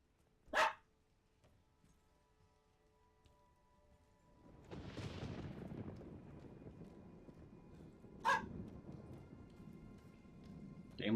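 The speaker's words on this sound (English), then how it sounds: "So I'm gonna put him down, and he's gonna start barking again." A dog barks in short isolated bursts, one near the start and another later, with a broad noisy stretch in the middle, heard in a room during a Resident Evil Requiem game stream.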